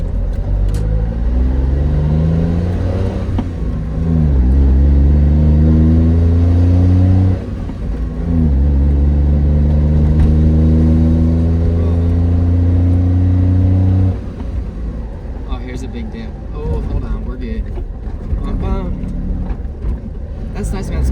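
Small Honda Beat kei roadster driving through a neighborhood's winding roads, its engine droning steadily with rising pitch sweeps as it accelerates and shifts, loud and close throughout, with rougher road noise toward the end.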